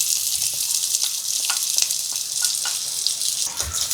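Shallots sizzle steadily in hot oil in a pan, a continuous bright frying hiss with a few small pops and scrapes. No one speaks.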